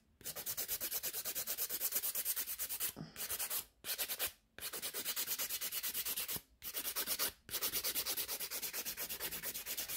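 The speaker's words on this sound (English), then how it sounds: "Make sure all the lumps and bumps are gone and you start filing downwards." A hand nail file runs downwards over encapsulated acrylic nails, rapid rhythmic rasping strokes in close bursts with a few brief pauses, no talk.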